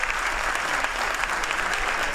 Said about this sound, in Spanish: Así que un aplauso para vosotros